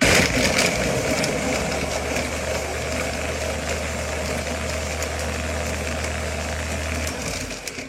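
A kitchen blender whirs through mango lassi with ice and yogurt, a loud, steady motor drone that holds for about seven seconds before cutting off, with no talk.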